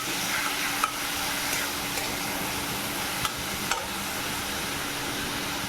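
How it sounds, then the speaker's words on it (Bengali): Ginger garlic paste sizzling in a pan for a spicy mushroom dish, a steady frying hiss broken by a few light scrapes as it is stirred. "আদা রসুন পেস্ট দিয়ে দিলাম 2 চামচ। একটু নেড়ে নিচ্ছি ভালো করে।"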